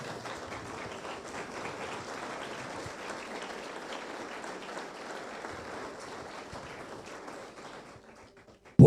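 A congregation claps during a church sermon, a dense, steady wash of many hands that fills the room for about eight seconds before cutting off sharply at the end.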